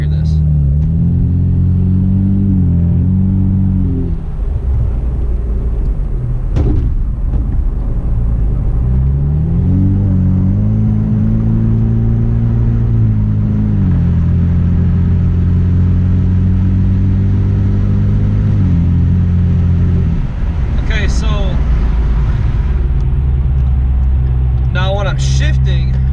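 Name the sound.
tuned Ford Mustang EcoBoost accelerating from a light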